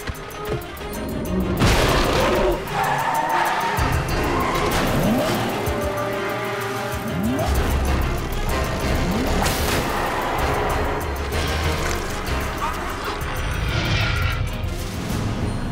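Truck engine revving hard in an animated action series, with tires squealing and skidding as it pulls away, loud and close throughout, ending in a long run of engine roar and screeching.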